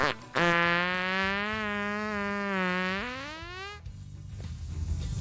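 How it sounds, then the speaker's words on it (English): A single long, buzzy fart drones for about three and a half seconds, loud and close, its pitch wavering slightly and rising near the end before cutting off. "Fart, defined in the Webster's Dictionary as an explosion between the legs."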